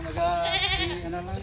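A free-range goat on a small Philippine farm gives one wavering bleat amid outdoor background noise, with people talking nearby.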